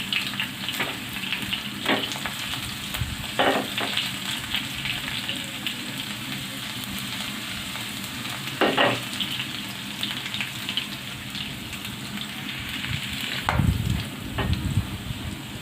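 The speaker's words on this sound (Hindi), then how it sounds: "और इसको लगाते हैं तड़का" Hot oil sizzles steadily as garlic and green chilies fry for a tempering for dal mash, with a few sharp clinks and stirring scrapes breaking through the continuous crackle.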